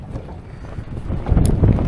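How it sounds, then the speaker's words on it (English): Wind buffets the microphone in a low, rumbling rush that builds louder toward the end, with water and boat noise beneath, while fishing for garfish from a boat. "Oh, the wind is no good."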